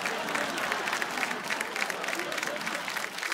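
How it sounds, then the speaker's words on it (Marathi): Loud applause from a studio audience at a Marathi game show, a dense continuous wash of clapping that holds steady for a few seconds. "एकदा जोरदार टाळ्या होऊन जाऊ दे. जोरदार टाळ्या"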